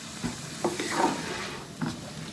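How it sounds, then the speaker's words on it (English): Pork mince browning in a pan, a soft sizzle under a few scraping stirring strokes of a utensil, close by and with no voices. "So you've just got to fry this off until it's sort of browned"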